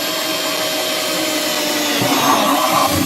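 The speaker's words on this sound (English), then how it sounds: "Go ahead and drill some holes in there." Power drill boring holes into a plastic sump pump pit, a steady loud whirring grind that holds close and continuous with a slight rise near the end.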